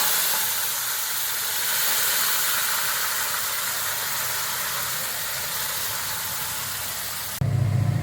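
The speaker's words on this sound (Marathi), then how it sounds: "आता आटवलेलं दूध आहे ते टाकू." Reduced milk hits hot roasted semolina and dried fruit for shira, letting out a loud, steady steamy hiss that holds for several seconds, then cuts off abruptly and changes to a lower rumble.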